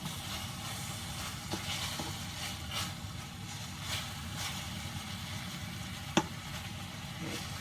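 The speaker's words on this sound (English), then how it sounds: "just saute everything up, stuff sticking to the pan, which is what we want" Chicken marsala ingredients sautéing in a pan with a little oil added, giving a steady low sizzle and crackle throughout, with one sharp clink near the end.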